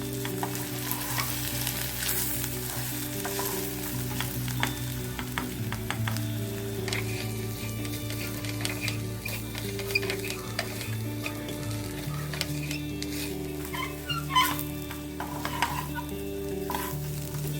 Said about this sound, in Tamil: இதை சேர்த்து நல்லா கிண்டி விட்டுடுங்க